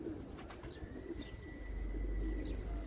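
Pigeons of a strong-blooded breed coo softly in a loft, with a few low, rounded calls and light chirps over quiet background hiss.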